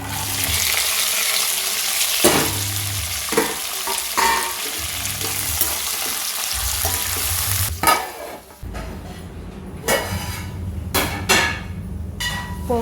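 Upma ingredients tipped into a pan of fried tempering spices give a loud, steady sizzle with stirring, then after about eight seconds the sound drops to quieter crackles and occasional sharp scrapes and clatter.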